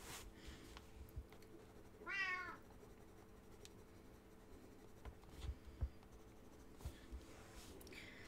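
A cat gives a single short, rising meow partway through a quiet indoor scene with a steady low hum and scattered faint scratching and tapping, and no talking.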